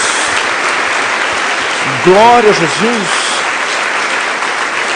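A church congregation claps in a steady, dense round of applause while a voice calls out briefly over it.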